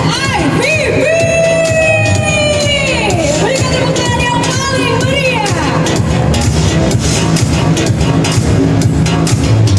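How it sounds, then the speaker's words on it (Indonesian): An audience at a car launch for the JAC J7 SIVP cheers, whoops and yells loudly in a dense crowd roar, with shouts rising and falling over steady applause-like noise. "Berikan tepuk tangan yang paling meriah."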